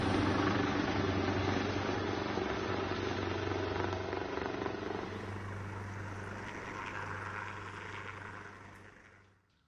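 An army helicopter evacuating ministers in Nepal drones with a steady, low rotor rumble that holds at a distance and then fades away at the end, with no voices.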